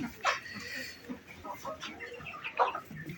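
Desi chickens cluck at a poultry market, several short, faint clucks and squawks scattered over a low background murmur.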